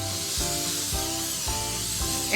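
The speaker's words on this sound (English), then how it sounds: "now I'm gonna spray the inside very generously" Cooking oil spray hisses into a baking pan for brownies in a kitchen, several short bursts in a row, each a soft airy spray, close and fairly quiet.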